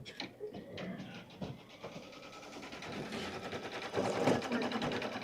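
An embroidery sewing machine runs a tack-down stitch line over a fabric corner on a winter mittens quilt block, its steady rapid mechanical chatter filling the room and growing louder toward the end, with no talking.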